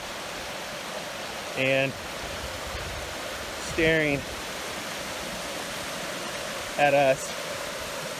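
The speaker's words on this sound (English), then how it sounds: "taking a bath at the top of a waterfall" A steady broadband rush of water pours from the top of a waterfall beside a Yosemite backpacking trail, constant and fairly close, with short bursts of voices talking over it.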